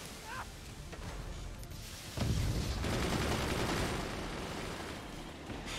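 Sniper shots in the artillery game Forts crack out among a dense barrage of gunfire and explosions, sharp reports layered over a loud, rumbling battle din.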